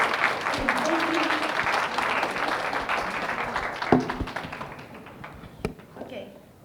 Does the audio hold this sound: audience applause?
yes